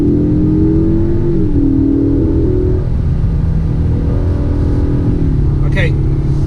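A 2021 Ford Mustang EcoBoost Premium accelerating onto a highway, its engine note climbing steadily from inside the cabin as a continuous drone under road noise, with a brief higher whine near the end.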